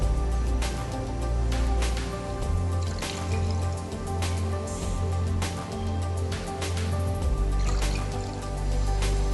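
Water poured into sugar in a bowl for rasgulla syrup, a close, continuous pouring and trickling with drips and a low bubbling gurgle throughout.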